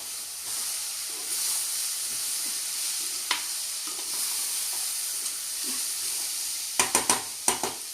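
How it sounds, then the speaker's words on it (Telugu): Chana dal frying in a pan while being stirred, a steady soft sizzle and hiss with light scraping, then a few sharp clinks of the spoon against the pan near the end, with no talking. "శనగపప్పు వేసుకున్న తర్వాత కలుపుకొని"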